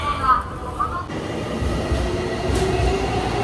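A train rumbles into a station in Okutama with a low, steady roar and a brief metallic squeal, voices faintly mixed in.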